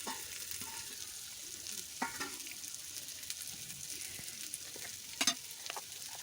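Beetroot and potato stir-fry in oil tempered with dried chilli, salted as they cook, giving a soft continuous sizzle. A few light scrapes and taps of the stirring utensil are heard, fairly quiet and close, with no voices.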